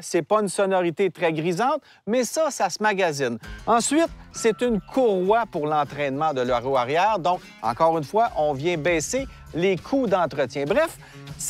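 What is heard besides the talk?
No everyday noises stand out.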